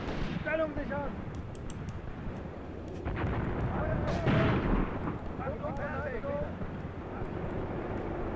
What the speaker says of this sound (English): Still got some mortars firing there.